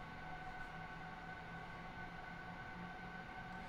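Train leaving Tutzing station on the Munich–Garmisch line, a steady rumbling hum with tonal whine from the traction motors, at moderate level and without speech.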